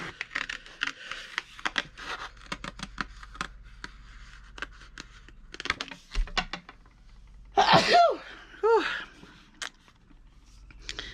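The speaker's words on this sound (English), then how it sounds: "Hold on, I'm gonna sneeze." One loud, sudden sneeze near the microphone, after a stretch of quiet paper rustling and clicking, followed by a short breathy aftersound.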